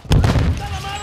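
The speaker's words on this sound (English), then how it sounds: "Stun grenade out." A stun grenade goes off in Call of Duty: Modern Warfare II with one loud, close bang, followed by a sustained ringing, muffled wash that fills the rest of the moment.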